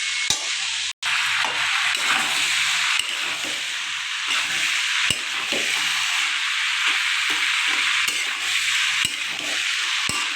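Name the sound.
chickpeas frying and being stirred in a pan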